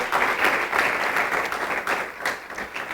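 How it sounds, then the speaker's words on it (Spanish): A dense wash of applause from a congregation during a religious teaching session, loud and sustained with individual claps blurring together, no voices over it. "Le podemos dar un fuerte aplauso al Señor"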